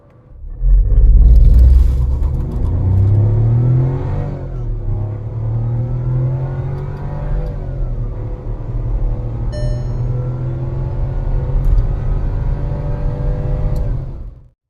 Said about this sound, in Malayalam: നമ്മളതിൻ്റെ 0 to 100 ടെസ്റ്റ് ചെയ്ത് ജസ്റ്റ് ഒന്ന് കാണിച്ചു തരാം.